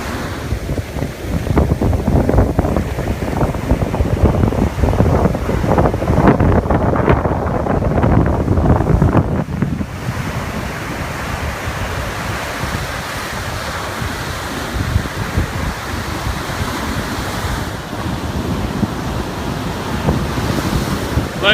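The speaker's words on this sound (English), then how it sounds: "Got kind of a rough tide out here." Rough surf rolling onto a Florida beach under strong wind, a loud, steady roar of breaking waves with heavy wind buffeting the microphone throughout, no voices.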